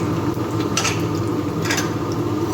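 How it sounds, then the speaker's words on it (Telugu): Mustard seeds, urad dal and chana dal drop into hot oil in a pan for tempering while making spicy fried rice, giving a steady sizzle and crackle with light metallic scraping throughout. "తాలింపు సరుకులు వేస్తున్నాను."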